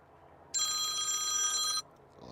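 An iPhone 14 Pro Max ringtone plays through its loudspeaker after a charging port repair, a bright electronic ring with steady tonal bands lasting about a second and a quarter, loud and close, with no talk over it.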